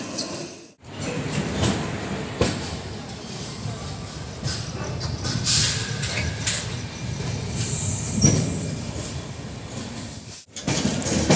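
Steady rolling rumble and clatter of the Jan Shatabdi Express heard from inside a carriage after leaving Panvel, continuous and fairly loud, with brief faint voices in the background.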